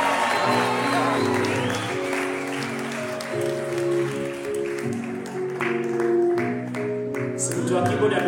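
Audience applause for Dennis Nyaga Mochua at a gathering, steady crowd clapping sustained for several seconds beneath sustained keyboard chords.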